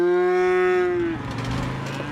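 Cattle on the Oregon high desert give a single loud, close, drawn-out moo that slides down in pitch, with no talking around it.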